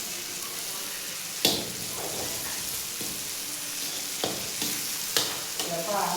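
Poppy seeds frying for a mutton curry, a steady close sizzle with a few sharp clanks of a spoon against the pan, no talking.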